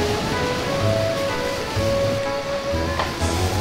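Ocean waves wash in a steady, loud, close roar beside a seaside campsite, with faint low hum under it and no talking.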